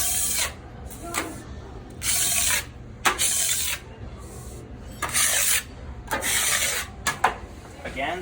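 A polishing pad rubs back and forth over a surface oiled for lubrication, bursts of bright hissing friction about once a second in a steady rhythm, close up with faint background noise between strokes.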